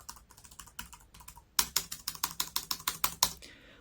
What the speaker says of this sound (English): I'll put up a little quick typing test so you can get a feel for the sound.